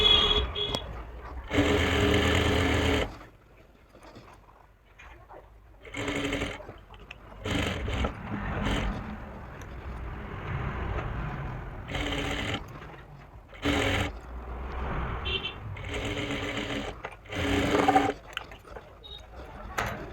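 An electric sewing machine stitches the hem area of loose palazzo pants in short whirring bursts, separated by quieter pauses with handling of the fabric.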